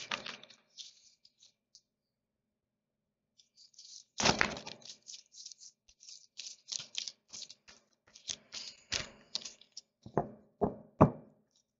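Soft, irregular papery slaps and riffles of cards being shuffled up close, with brief quiet gaps and a few sharper taps near the end.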